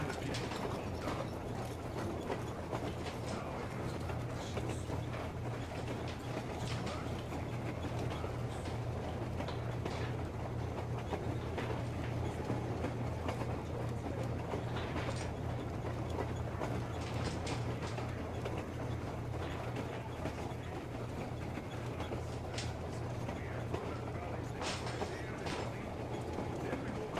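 A rail car rolls along tracks in the video game Metro Exodus, a steady rumbling, clattering ride with rhythmic mechanical clicks, continuous and moderately loud throughout.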